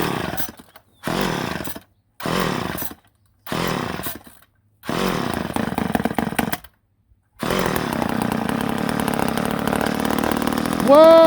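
Chainsaw left sitting for over 20 years sputters through several short pull-start bursts with gaps between, then catches and runs steadily, loud and close, with the engine rising briefly near the end.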